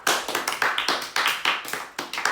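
A group claps and applauds for the winner of a children's ice cream eating contest, a steady run of dense, close hand claps lasting a couple of seconds.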